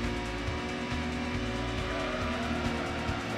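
Car sliding and skidding in the Gran Turismo racing game, steady loud engine drone with tire squeal running throughout, no voices.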